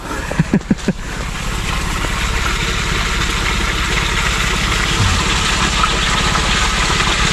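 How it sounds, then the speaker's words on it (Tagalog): An engine idles with a steady, loud chugging rumble after a few sharp knocks at the start, running continuously close by. "Medyo lang si RJ siya nag-andar ng makina."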